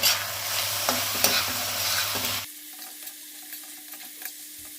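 Mutton with papaya, potato and ground spices is stirred and sautéed in a pot, a close sizzle with scraping stirs that drops sharply in loudness halfway through, leaving a quieter simmering hiss.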